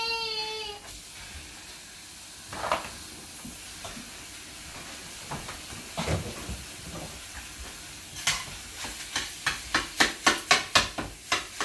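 Ground turkey cooks in a pan with a soft steady sizzle and hiss, broken by scattered scraping and clacking as the meat is chopped, growing into a quick run of rhythmic taps near the end.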